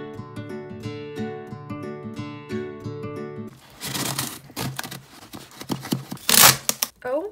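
Scissors cut open a shipped slime package, giving a run of loud crinkling, snipping and tearing plastic sounds in uneven bursts, preceded by a stretch of bright, tuneful background music.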